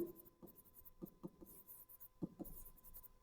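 Accounting entries are being written, giving a series of short, soft scratchy strokes in irregular clusters, quiet and close with no talk over them.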